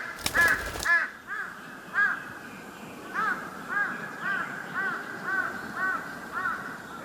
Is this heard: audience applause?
no